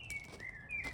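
Faint bird chirps in a home garden, thin high tweets rising and falling over a low outdoor hum, fairly quiet and continuous throughout.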